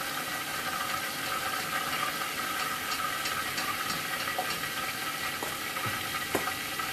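Pork chops sizzle and fry in a pan, a steady loud crackling hiss with a few small pops, no talking.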